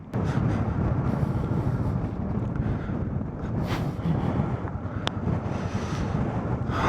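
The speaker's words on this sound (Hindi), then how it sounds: "हाँ, हवा चल रही है बहुत तेज़।" Strong wind buffeting the microphone across open Ladakh marshland, a steady, loud roaring rush with gusty swells and no talking.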